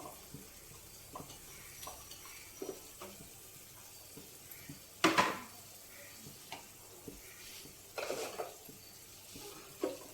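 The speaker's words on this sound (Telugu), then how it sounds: "ఇప్పుడు ఈ ఆనపకాయ ముక్కలు కూడా మనం నూనెలో వేయించుకుందాం." Bottle gourd pieces fry in oil with a faint, low sizzle, punctuated by scattered stirring scrapes and clinks of a utensil against the pan, one louder clatter midway.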